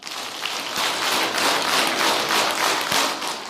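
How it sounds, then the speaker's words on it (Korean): A congregation claps together in steady rhythmic unison, with a quick run of roughly ten sharp claps filling the room at an even, fairly loud level. "박수 10번 시작"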